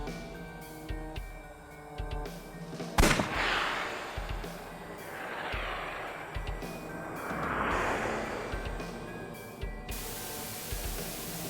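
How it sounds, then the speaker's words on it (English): A single sharp gunshot cracks out in the video game AI: The Somnium Files, followed by swelling whooshing effects over a quiet, steady game background. "I'll try shooting it"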